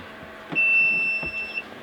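A single steady electronic beep sounds for about a second, clear and close, over quiet background noise.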